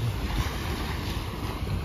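Ocean surf washes in with a continuous low roar, mixed with steady wind buffeting the microphone.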